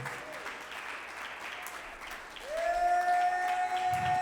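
Congregation applauding at a Spanish-language church service, a steady broad patter of clapping that swells louder partway through, with a sustained tone entering over it.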